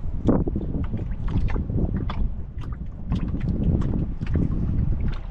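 A small fishing boat circles on the water with wind buffeting the microphone, a rough, churning engine-and-splash noise that stays loud throughout.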